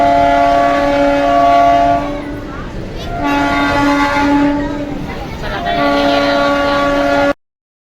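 Riding aboard a moving passenger train: a loud, steady rumble of the carriage with a sustained tonal horn or whistle that breaks off briefly and returns, heard up close from inside.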